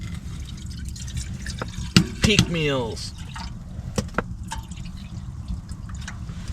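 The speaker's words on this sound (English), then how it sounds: "I'm gonna fill up some water, bring it to a boil" Water is poured into a pot to be brought to a boil at a winter camp in a hot tent, giving a short rising gurgle among a few drips and clinks, while someone talks nearby.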